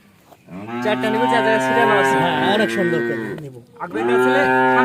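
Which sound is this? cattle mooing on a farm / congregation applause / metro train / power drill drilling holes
cattle mooing on a farm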